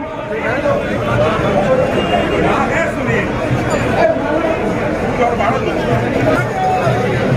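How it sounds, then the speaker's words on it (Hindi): A large crowd at an election nomination and blessing rally in Siwan, with a dense, steady murmur of many voices filling the scene at a fairly loud level. "बहुत भीड़ है"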